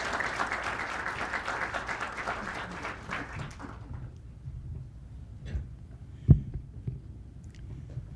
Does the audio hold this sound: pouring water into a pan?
no